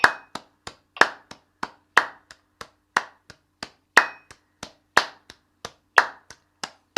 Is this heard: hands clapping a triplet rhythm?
yes